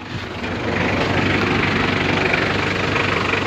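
A car engine idles steadily and loudly up close with a rough low rumble and no break, still running after a battery terminal is pulled during repair of a faulty temperature sending unit.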